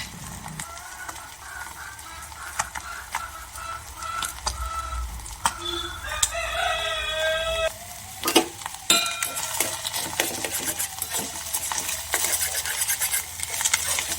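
An egg seasoned with salt and chili powder fries in a pan for Madras-style Maggi noodles, with a quiet hiss and repeated spatula scrapes and taps. A brief tonal chirp cuts in midway.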